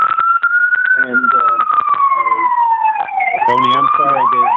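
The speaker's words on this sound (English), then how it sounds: "the siren is drowning you out" An emergency siren wails loudly and steadily throughout, its pitch gliding down and then rising again as it passes close by, with a voice talking intermittently underneath.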